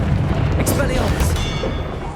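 Expelliarmus spell cast in Hogwarts Legacy, a loud, dense booming burst with sharp whooshing flares, sustained over about two seconds amid other game noise.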